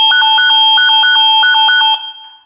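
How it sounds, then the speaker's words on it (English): A Nest Secure alarm system's 85-decibel siren blares loudly in a rapid repeating electronic beeping pattern, sustained nearly two seconds before cutting off. "if motion is detected and the 85 decibel siren sounds, it is certainly loud enough to get any intruder's attention"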